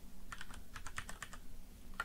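Someone types a short command on a computer keyboard, a quick close run of light plastic key clicks in an uneven rhythm, quiet and alone.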